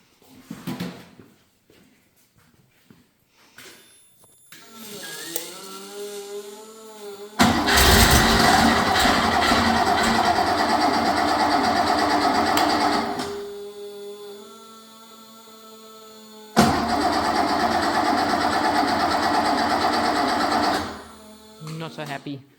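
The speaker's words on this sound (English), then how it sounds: "we're going to do our cold start now that we've made all of our timing and mixture settings" A rebuilt air-cooled Porsche engine on a test stand is cold-started: starter cranking, then two loud sustained running bursts separated by a quieter lull, with talk in between.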